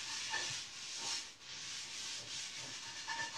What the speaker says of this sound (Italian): io ho pulito la mia pentola